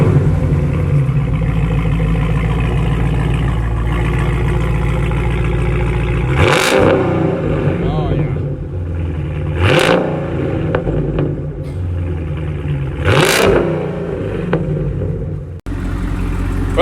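A Dodge Charger with a tunnel ram and MagnaFlow X-Mod exhaust idles loudly with a deep lumpy rumble, then snaps through three sharp throttle revs, each a brief roar that falls back to idle.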